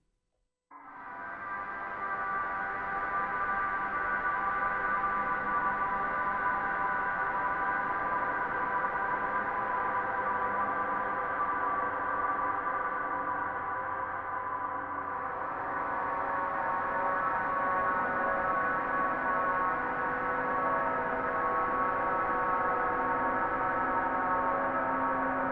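A long, dense wash of guitar chords smeared by heavy ambient effects, swelling in almost at the start and holding a steady, droning texture for about 25 seconds.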